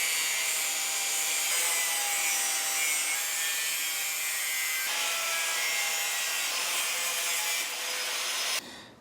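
A power cutting tool slicing through the rusty steel frame of a Honda CB500 motorcycle, a loud continuous harsh whine close up with slight shifts in pitch, stopping abruptly near the end.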